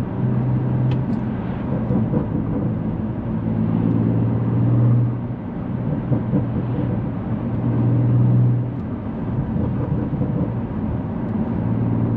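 A tuned BMW M3 running a BootMod3 tune accelerates in sport mode with a steady, loud low engine drone that swells and eases, heard up close without talk.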